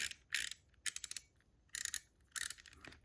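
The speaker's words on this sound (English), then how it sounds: "My favorite part, the slider, the ratchet ring kind of on the bottom" The ratchet ring on an ACEDC Zoom Slider fidget toy is turned in four close, crisp bursts of rapid clicking, separated by short quiet pauses.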